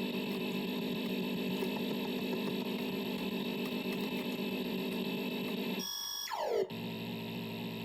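Electronic engine drone from the ZX Spectrum game Death Chase: a steady, buzzy multi-tone hum that runs alone for about six seconds, then breaks into a brief falling chirp and resumes at a lower pitch.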